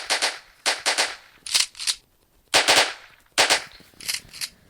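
Rapid bursts of gunfire from a zombie shooting video game, loud and close, coming in several clustered volleys separated by short quiet gaps.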